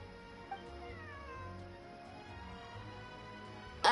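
A cat meows in Genshin Impact, a few thin rising cries drifting over soft game music in the background, with a sharp louder sound bursting in at the very end.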